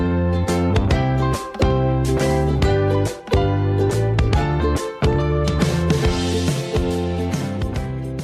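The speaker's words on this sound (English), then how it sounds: "Would you say that music sounded happy or playful?" Bright, bouncy music with punchy rhythmic chords and lively melodic notes plays at a steady moderate level, pausing briefly between phrases.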